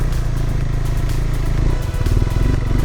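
An off-road motorcycle engine rumbles loud and close while riding through a puddle, with clattering and sloshing over a steady throaty drone.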